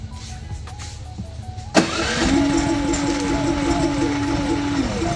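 A PhilKing generator engine cranks and fires at about the two-second mark, then settles into a steady mid-pitched idle with a constant hum, heard alone at close range after a quiet stretch.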